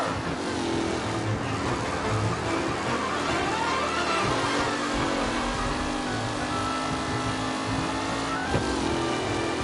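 Race cars in Mafia Definitive Edition roar around the track, engines droning and revving continuously close by, with shifting pitch as cars pass and occasional tire noise.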